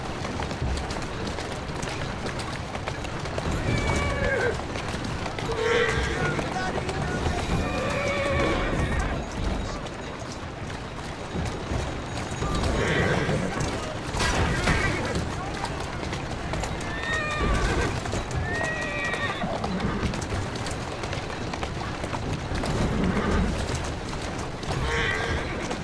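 Horse in Assassin's Creed Syndicate, with repeated whinnies and neighs over running clip-clop hoofbeats and carriage rumble, loud and close throughout, plus occasional brief speech.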